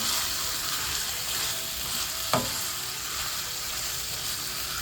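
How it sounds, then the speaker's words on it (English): Chicken stew sautés in a pan with a dense, continuous sizzle at moderate level, broken once midway by a single sharp knock of a utensil against the pan. "Let it saute for a little bit"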